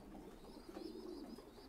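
Thai pigeons coo softly at a pigeon farm, a low steady murmur close by, with faint high chirps from young birds layered on top.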